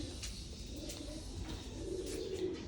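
Caged breeding pigeons or doves give soft, low cooing calls that repeat faintly against a steady background hum.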